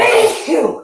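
One sharp, loud sneeze from a person nearby during a casual indoor hangout, a single quick burst, followed by a brief spoken thank-you.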